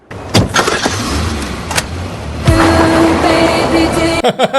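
A Ferrari in a dramatic scene, with loud road and engine noise building to a sustained rush, plus a door or window mechanism sound near the start and a sharp cut at the end.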